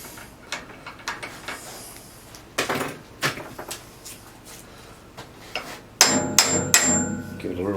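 Several sharp metallic taps on a milling machine drawbar to knock it loose, irregularly spaced single strikes and short clusters, close and loud, with a brief ringing tone near the end.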